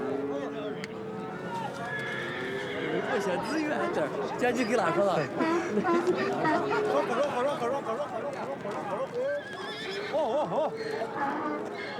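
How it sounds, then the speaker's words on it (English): Horses neigh and whinny repeatedly at a busy horse market, hooves clip-clopping amid a steady crowd chatter and people talking throughout, the calls close and loud. "whole strings of horses have changed hands"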